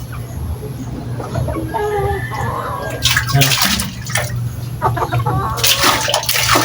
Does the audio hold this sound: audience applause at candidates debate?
no